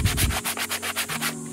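Rough wood edges being smoothed with 100 grit sandpaper for a homemade stool, heard as close, rhythmic back-and-forth rasping strokes, about eight quick passes in a second and a half.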